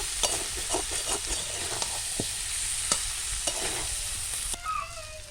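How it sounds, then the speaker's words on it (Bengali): Boiled potatoes being stirred and sautéed with spices in a pan, giving a steady close sizzle with repeated scraping strokes of the spoon and a brief hiss of steam near the end. "আলুর সঙ্গে মশলা খুব ভালো করে কষিয়ে নিয়েছি"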